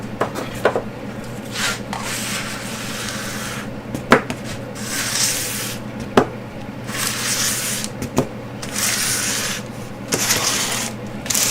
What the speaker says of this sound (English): let me scrape that over